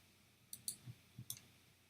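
A computer mouse clicks several times in quiet, a short spaced series of crisp sharp ticks, near and distinct, with no talk.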